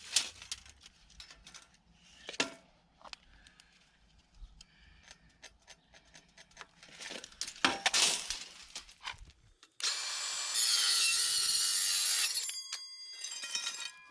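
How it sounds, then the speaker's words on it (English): A piece of wood is sawn to length in a home shop for a track sled build, with scattered knocks and handling sounds followed by a loud, steady burst of cutting that runs about three seconds before stopping. "Now I'll cut me a piece that matches this end at 50 inches."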